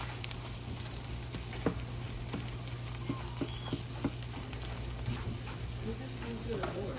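Eggs frying in butter in a pan make a steady soft sizzle with occasional small pops and crackles, heard up close at moderate volume.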